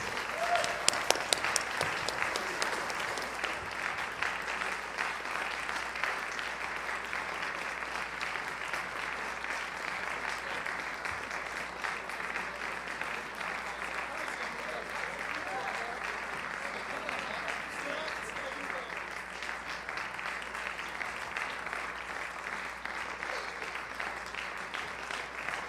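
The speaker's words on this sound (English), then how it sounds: "give one more applause for this extremely talented group of" Sustained applause from an audience for a young jazz ensemble at a showcase concert, steady dense clapping throughout with a slightly louder burst at the start.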